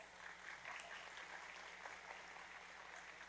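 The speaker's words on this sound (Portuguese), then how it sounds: "uma salva de palmas" Audience applause at a sports justice disciplinary commission session, a faint, distant, steady patter of clapping with a low hum underneath.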